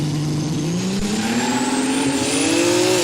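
Two Barra-engined cars in a no-prep drag race elimination scream down the strip, engine notes climbing steadily in pitch under hard acceleration, loud and sustained with a harsh, gritty roar and no talk.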